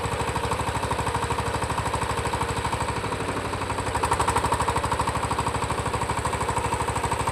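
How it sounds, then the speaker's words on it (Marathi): An engine warming up for about two minutes before a car departs, idling with a loud, fast, steady mechanical knock that holds an even pulse throughout with a brief swell midway. "दोन मिनटं इंजिन गरम व्हायला लागतो"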